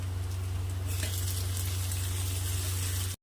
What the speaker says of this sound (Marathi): याला छान असं परतून घेऊ